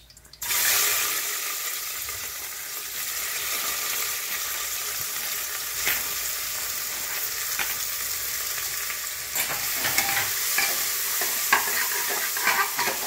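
Onion with salt frying in hot oil with bay leaf and whole garam masala in a kadai, stirred now and then; a loud steady sizzle runs throughout with scattered scraping and clinking strokes up close.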